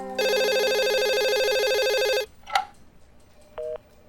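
A telephone at a women's police station in Lucknow rings with a loud electronic ringtone for about two seconds, followed by a short click and a brief beep.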